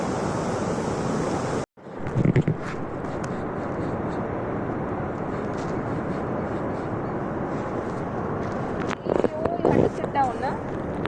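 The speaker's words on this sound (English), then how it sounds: "it's quite the monsoon sea can be quite rough, as you can see here." Rough monsoon sea waves surge in a loud, continuous roar with steady wind noise across the microphone, broken by a brief dropout near the start.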